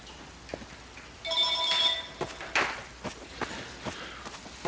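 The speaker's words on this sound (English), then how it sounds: "Oh, and that's the phone." A telephone rings in The Stanley Parable video game, a short burst of bright repeated bell tones standing out briefly over quiet footsteps and soft game ambience.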